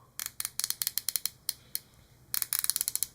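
A titanium ratcheting bezel on a Dievas Vortex 39 Ti watch is turned in two quick runs of crisp, evenly spaced clicks, close and sharp, separated by a short pause.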